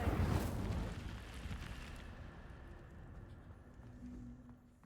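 An Incendio fire spell from Hogwarts Legacy bursts out in a loud roaring whoosh at the start, then decays into a fading crackling rumble over several seconds, with no voices present.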